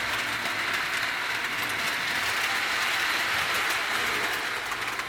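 A Marx Christmas toy train runs steadily around a model layout, giving a continuous close rolling rumble and whir that stays even and fairly loud throughout, with no talking.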